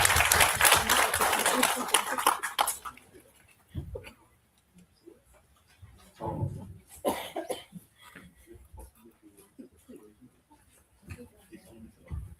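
Audience applause welcoming architect Hussam Abdul Fattah Harun to the stage at the ESTE 2026 event, a loud burst of clapping that fades after a few seconds into scattered coughs, murmurs and room noise.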